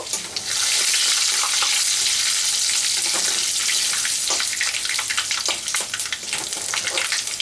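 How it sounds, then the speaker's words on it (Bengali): Panch phoron and cumin seeds, with dried red chillies, crackle and sizzle loudly in hot oil, a dense, close, steady frying roar full of tiny pops, with no talking. "আর দেব 1/2 চামচ পাঁচফোড়ন, 1/2 চামচ জিরে দিয়ে ফোড়নটা একটু ভেজে নেব"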